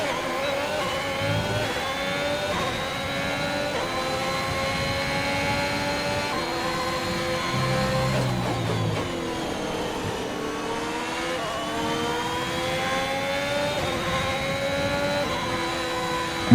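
A Formula 1 car engine in the racing game F1 2021 at the Bahrain Grand Prix, high-pitched and continuous, pitch climbing through gears with short dips on upshifts, loud and steady throughout.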